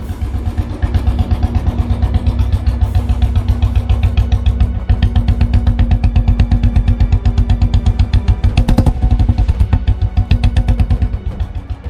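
A Royal Enfield motorcycle engine revs loudly and steadily, its rapid thumping exhaust pulses running unbroken for about twelve seconds, with a brief rise in throttle midway.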